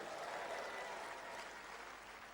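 A lecture audience applauds, a dense wash of many hands clapping that holds steady and slightly distant without pauses or voices.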